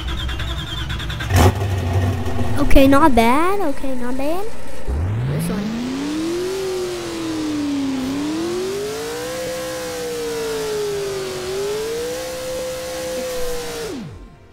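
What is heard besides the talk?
car engine starting and revving in Roblox Driving Empire video game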